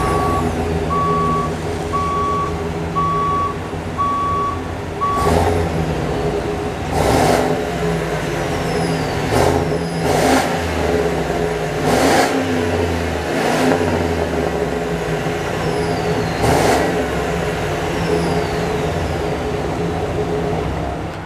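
Gas pickup trucks, a 2024 Ford F250 with a 6.8L engine and a Chevy Silverado HD with a 6.6L engine, rev in repeated loud bursts that rise and fall. A steady reversing beep sounds early on, with no talking.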